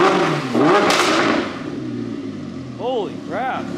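An Audi R8 fitted with a new aftermarket exhaust gives a few gentle revs, the engine rising and falling in short bursts over a loud, rumbling idle, with people talking nearby.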